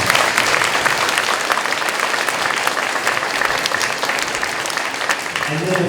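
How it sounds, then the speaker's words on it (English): Loud, dense clapping from students filling a school Veterans Day assembly, a continuous roar of applause with a few cheers mixed in. "Give yourselves a round of applause."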